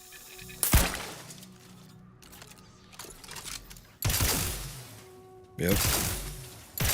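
Gunfire in Outer Worlds 2 as targets are shot, three sharp, loud blasts spaced a second or more apart, with mechanical clicks and creaks between them and a brief spoken word.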